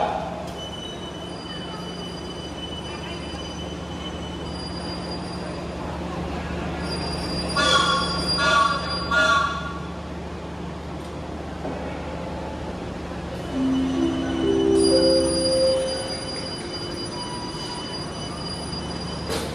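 A passenger train, the KA Pandalungan running between Sidoarjo and Probolinggo in East Java, Indonesia, rumbles along steadily while metal wheels squeal in high, drawn-out screeches a few times over the low rolling noise.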